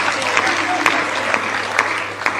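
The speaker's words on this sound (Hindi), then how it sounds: "आप लोग तालियां बजाओ तो सारे पीछे तक बजाओ," A crowd at a Hindi comedy poetry gathering claps together, a steady wash of applause with a few sharper clap bursts standing out over a low background hum.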